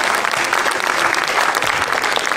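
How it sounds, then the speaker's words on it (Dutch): Audience at a comic strip festival in Breda applauding the jury, a steady, dense wash of clapping from a large crowd that fills the whole moment at close range. "Peter de Wit en Michel Nadorp, mag ik een applaus voor onze juryleden die dus het hardst hebben na zitten denken."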